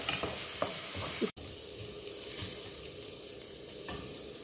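Creamy, cheesy pasta sauce with Sri Lankan flavours sizzling steadily in a pan, a constant close hiss broken by a few soft stirring scrapes and a short dropout, with no talking.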